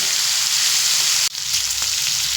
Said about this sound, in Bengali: ভেজে নেব তবে চিংড়ে মাছগুলো কিন্তু আমি খুব বেশি ভাজবো না এক থেকে দু মিনিট মতো একটু ভেজে নেব